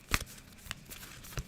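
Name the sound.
shuffling cards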